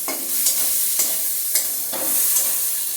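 Tomato spice masala with turmeric frying in oil after being cooked down until the oil separates, a steady close sizzle broken by several scraping stirs of a spatula at regular intervals.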